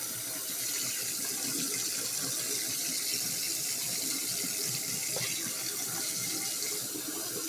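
Steady rushing tap water pours into and rinses out an old dug-up bottle with mud and clay inside, a continuous close splashing flow with no talking.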